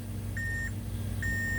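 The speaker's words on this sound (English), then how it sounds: "Here also both sides are beeping." A multimeter continuity tester beeps while probing components on an HP laptop motherboard: two steady electronic tones of about a third of a second each, under a low mains hum.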